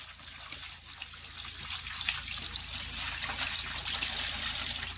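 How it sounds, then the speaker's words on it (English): Water poured out of a home aquarium during a gravel-to-sand switch, a continuous trickling splash that grows slightly louder and fuller toward the end, with no talk. "let me pour some of this water out."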